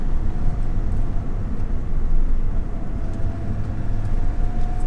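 A Datsun 280Z engine revs through a rev-matched downshift while driving, heard from inside the car as a steady, loud low rumble with a faint whine that rises slightly partway through.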